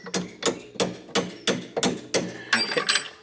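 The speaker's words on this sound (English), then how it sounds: "Try hitting that with a hammer there." Repeated hammer blows on a BMW V8 suspension part, about nine sharp metallic strikes in a steady rhythm, close and clear with no talk over them.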